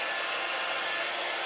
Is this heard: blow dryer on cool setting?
yes